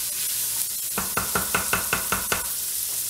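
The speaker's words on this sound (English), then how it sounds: "Give this a little stir. And we're just gonna saute this until it gets translucent." Peppers sauté in a pan for American chop suey: a soft sizzle runs underneath while a spoon strikes the pan in a quick, even run of about seven knocks, then the sizzle continues alone.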